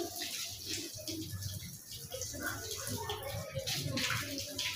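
Water splashes and trickles during nose rinsing as part of wudu, with a steady washing wash of water against a basin, close and continuous with faint background noise.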